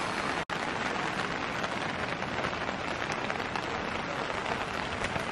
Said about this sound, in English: I absolutely love the sound of rain in the tent though